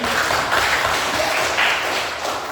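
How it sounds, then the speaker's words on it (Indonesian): An audience in a college classroom or lecture setting breaks into brief, continuous clapping, fairly loud and close, with a few dull taps and thumps mixed in. "Betul sekali, tepuk tangan dulu."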